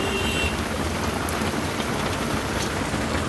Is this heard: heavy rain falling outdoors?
yes